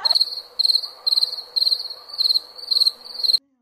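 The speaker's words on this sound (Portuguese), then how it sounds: "Eu vou botar até os grilinhos miando." Crickets chirp in a quiet setting on a Sunday, a loud close trill repeating in regular pulsed bursts about every half second before stopping abruptly.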